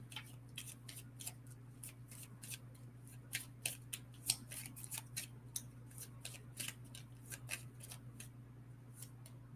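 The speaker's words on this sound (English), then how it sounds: "Oops, too many cards flipping over there." Oracle cards being shuffled and flipped during a reading, giving rapid, faint, crisp riffling and snapping clicks in quick bursts over a steady low hum, with no talking.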